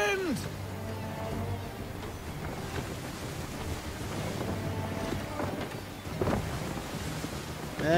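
Steady gusting wind buffets the microphone over a sea-like rush aboard a sailing ship in Assassin's Creed 3, with voices speaking intermittently on top.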